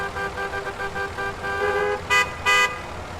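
Car horns honk amid dense city traffic, one sustained blare followed by two short, loud toots near the end, over a steady rumble of engines.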